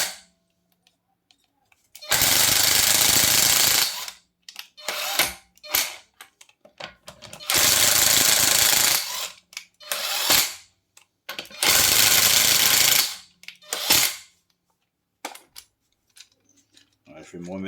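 A Ryobi RIW18-0 cordless impact wrench runs nuts down at minimum power in three loud, sustained hammering bursts of a few seconds each, with scattered clanks and handling noises between them.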